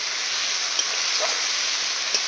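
Spice paste sizzles steadily in plenty of hot oil while being fried down for a mutton gravy with raw papaya and potato, a constant close hiss with a couple of faint clicks and no voices.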